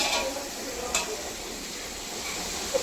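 Tomatoes being sautéed in a pan for biryani give a soft, low sizzle with occasional stirring scrapes and small pops, fairly quiet and steady throughout.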